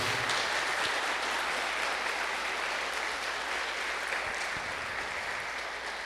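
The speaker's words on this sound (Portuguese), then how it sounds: "Dê uma salva de palmas para o Senhor Jesus." A church congregation at an anniversary service claps together continuously, a steady even wash of applause held at a moderate, somewhat distant level throughout.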